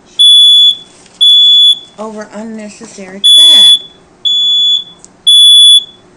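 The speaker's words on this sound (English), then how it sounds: "That's the smoke detector" A smoke detector sounds loud piercing beeps, five long shrill tones in a steady rhythm, while a person talks between them.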